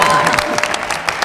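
Studio audience applause on a talk show finale, a short burst of dense clapping from a crowd, loud and close, with a voice speaking over it.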